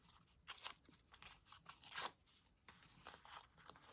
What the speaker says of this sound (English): rather than using my scissors, I'm just tearing.